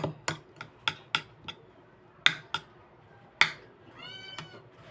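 Hungry cats meow repeatedly at close range, about ten short sharp meows in an irregular rhythm with brief gaps between them.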